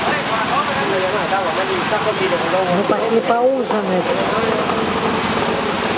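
Heavy tropical rain pours steadily in Nakhon Si Thammarat, Thailand, a constant hiss beneath nearby people talking throughout.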